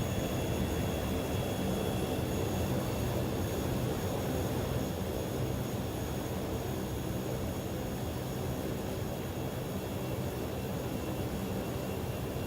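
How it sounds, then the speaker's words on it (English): Airliner taxiing in a flight simulator game, a steady droning engine rumble with a faint whine that holds constant throughout. "And let's try and taxi."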